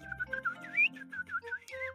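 A person whistles a quick, lively tune of short rising and falling notes in an animated cartoon, alone and fairly quiet.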